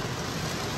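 Steady rain pours down at a beach campsite in Mexico, a dense continuous hiss of falling water with no voices in this short stretch.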